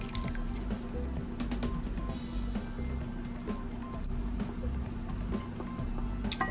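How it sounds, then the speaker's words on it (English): Juice from cooked elderberries draining out through a strainer, a continuous close trickling and splattering of liquid with soft drips and wet squishes, steady and moderately quiet. "I'm gonna get the berries drained out of that, and then we're going to can the juice as well."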